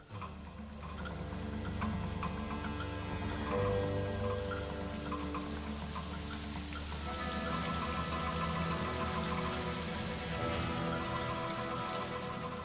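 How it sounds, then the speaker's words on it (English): Heavy rain falls for days in Kakadu, Australia, a dense, continuous patter of drops on leaves and surfaces, close and steady throughout with no voices. "A blanket of cloud hangs overhead, and the rain falls for many days and nights."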